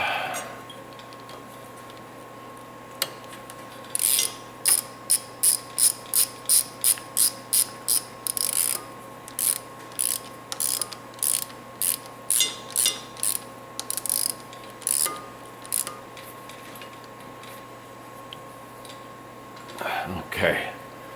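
A ratchet tightens a brake hose fitting on a Honda Rancher 350 ATV: repeated bursts of rapid, loud metallic clicking close by, in quick strokes separated by short pauses, over a faint steady hum.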